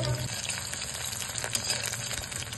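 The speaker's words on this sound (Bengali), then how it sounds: "ফিশ ফ্রাইগুলো করে নিচ্ছে, একটা একটা করে এরকম ভাবে।" Breadcrumb-coated fish fingers sizzle in hot oil in a pan, a steady close hiss and crackle with no talking over it.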